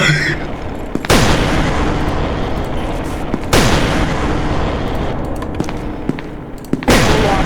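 Three heavy booming blasts from a massive video game explosion, each a sudden loud burst trailing into a long rumbling roar, spaced a few seconds apart.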